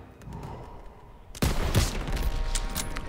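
Loud bursts of gunfire erupt after a quiet opening in Call of Duty WWII, a dense fusillade of rapid shots continuing to the end.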